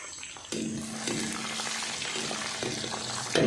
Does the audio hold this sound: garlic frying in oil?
yes